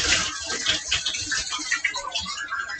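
Running water from a shower or tap splashing over a back scrubber being rinsed, a steady close wash of spray and splatter lasting a few seconds with no talk.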